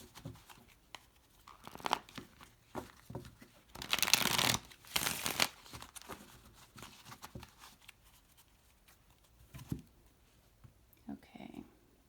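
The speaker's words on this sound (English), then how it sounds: "So I'm going to just shuffle this deck 3 times," A deck of tarot cards shuffled by hand in bursts of riffling and rustling, with a louder, denser stretch of card noise midway and softer taps and slides on either side, close and clear with no talking.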